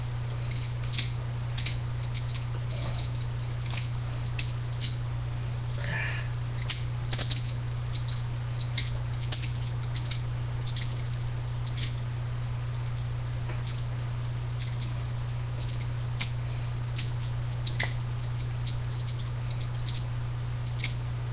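A small balisong butterfly knife is flipped in a clumsy beginner attempt, giving scattered light metallic clicks and clacks, close but soft, over a steady electrical hum.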